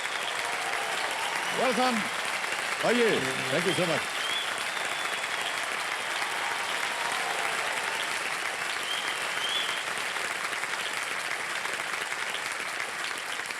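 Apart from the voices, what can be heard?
studio audience applause welcoming guests on KBC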